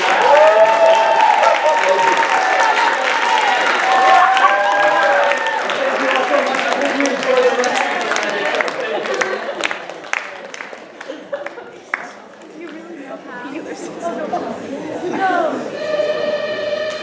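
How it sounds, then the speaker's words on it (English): Members of an audience at a magic show clap loudly, the applause mixed with excited voices and cheering, then thinning into scattered claps and chatter as music comes in near the end. "A round of applause."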